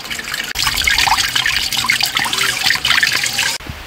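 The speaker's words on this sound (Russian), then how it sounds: "Долгожданный дождь пошел." Rain falls in a steady, close trickle and patter of running water that carries on unbroken for a few seconds.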